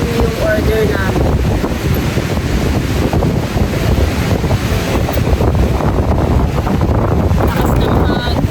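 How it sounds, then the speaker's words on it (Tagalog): Strong seaside wind in La Union buffets the microphone in a loud, constant rumbling roar, with faint voices barely audible beneath it. "Lakas ng hangin."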